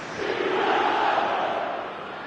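A stadium crowd in an eFootball match roars after a goal, a loud sustained swell of cheering that rises and slowly fades over a couple of seconds.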